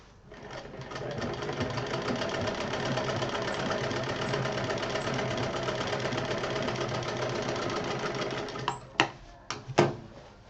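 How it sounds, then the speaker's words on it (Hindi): A sewing machine stitching fabric pieces together for a DIY children's almirah, its motor running in a steady close whirring rattle, stopping near the end with a few short bursts. "इस तरह से इसको भी सिल देंगे।"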